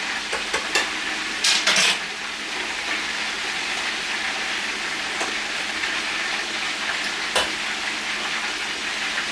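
Chicken deep frying in a pot of hot oil, giving a steady, loud, dense sizzle and crackle that runs the whole time, with a few sharper pops and clatters.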